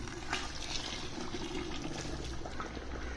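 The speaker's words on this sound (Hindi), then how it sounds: "तो अब हम इसमें पानी डालेंगे। पानी हमारे पास गर्म है।" Hot water poured into a pot of dal mash with whole garam masala spices, a steady, soft, continuous rushing pour with no talk.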